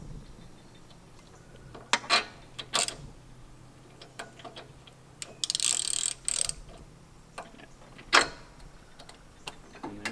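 Ratchet clicks in short bursts while a spark plug is tightened on a John Deere 125 lawn tractor, close and crisp with quiet gaps between strokes and a longer rapid ratcheting run midway.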